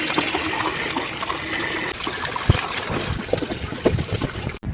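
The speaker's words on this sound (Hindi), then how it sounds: "पानी का नल है।" Water gushes steadily from an outdoor tap near a village police station in Himachal, a loud, continuous rushing splash with no talk over it.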